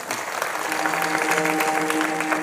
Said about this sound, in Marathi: एकदा टाळ्या वाजवूया त्यांच्यासाठी